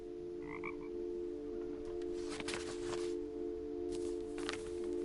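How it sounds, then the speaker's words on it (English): A frog croak from What Remains of Edith Finch plays out of a game controller's speaker, a few short croaks over a steady electronic hum, fairly soft and close, with no talking. "A frog sound just came out of my pad."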